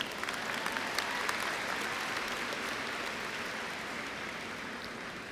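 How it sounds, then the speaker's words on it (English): Graduates at the San Diego Mesa College commencement clapping for themselves, a thick, continuous wash of crowd applause that starts with a few crisp claps and then stays level and sustained, without talk. "You can applaud yourselves."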